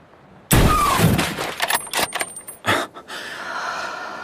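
A sniper rifle shot in a video game goes off with a sudden loud blast, followed by a ringing, rattling tail and a couple of quieter after-sounds as it fades.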